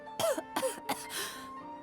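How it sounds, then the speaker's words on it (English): A female character in Final Fantasy XIV gives three close, fairly faint coughs in a quick uneven run, then a softer throat-clearing rasp at the end, with no talk. "You shouldn't be seeing patients if you're coughing, girl."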